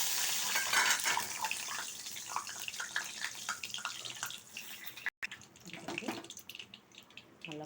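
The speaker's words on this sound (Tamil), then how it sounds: "நல்லா கொதிக்குது." Mango and drumstick sambar bubbling at a boil in a pot on the stove, a continuous close bubbling and simmering hiss, with a voice speaking over it.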